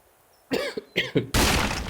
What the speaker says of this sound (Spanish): todavía tengo tos